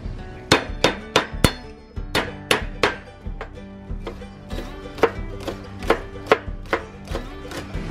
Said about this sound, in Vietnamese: Gốc hành lá thì các bạn sẽ đập dập băm nhuyễn.